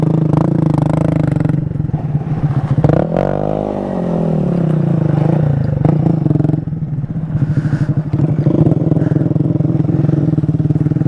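A Honda Grom small motorcycle ridden nearby, its engine buzzing steadily with a rise and fall in revs partway through, plus some clatter and scraping.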